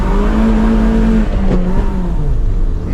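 A drift car's engine revving hard during a burnout attempt, a loud close roar holding a steady pitch and then sagging lower as it falls off, with no talking.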